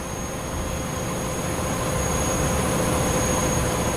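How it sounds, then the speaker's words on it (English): Virgin Trains CrossCountry passenger train on the Edinburgh to Bristol Temple Meads route in a train simulator game, a steady continuous rumble of rolling wheels and engine with high whining tones held throughout, loud and close. "that's Virgin Trains cross-country from Edinburgh to Bristol Temple Meads"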